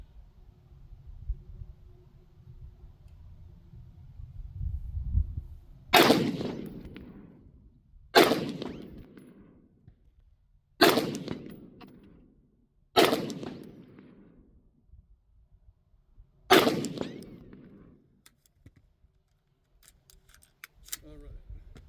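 Five sharp AR-15 rifle shots (1:9 twist) crack out at a range, fired at a target 100 yards away, spaced a couple of seconds apart, each followed by a short decaying echo over faint background rumble.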